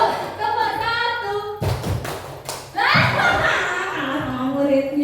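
A classroom group of teachers and students gives a single 'tepuk satu' clap for Pak Hasan: one short burst of sharp claps amid speech, with chatter and a chuckle before and after.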